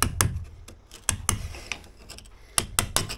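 A cheap all-purpose chisel scrapes loose mortar out of damaged face brick in sharp, close metallic scrapes and clicks, several separate strokes spaced irregularly, with a dense cluster near the end.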